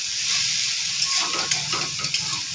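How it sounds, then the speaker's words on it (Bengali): A spoon stirs salt and turmeric into chalta chutney in a hot pan, scraping and swishing through a steady sizzle, close and alone. "লবণ হলুদটাকে মেশাবো।"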